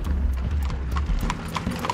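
Donkeys' hooves clip-clop in an uneven, steady walking rhythm as the animals are led into a yard, close and fairly loud, with no talking over it.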